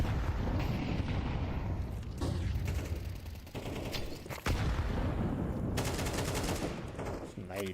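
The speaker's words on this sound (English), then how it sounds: "Nades just flying at Spellan. He's not been able to see anybody yet, and he's just bombarded with the HGs" Grenades bursting in a competitive Counter-Strike match, dense overlapping blasts and gunfire forming a loud, continuous barrage with a few sharper hits, under esports commentary.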